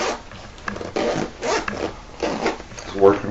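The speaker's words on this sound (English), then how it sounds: "nice zipper pocket." A zipper on the lining pocket of a handmade designer handbag is drawn open and closed several times, making close, scratchy zips with brief pauses between them.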